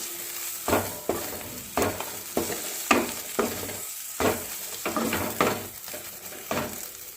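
A spatula scrapes and stirs flat bean bharta in a wok over a gas flame, with rhythmic strokes about every half second over a low frying sizzle.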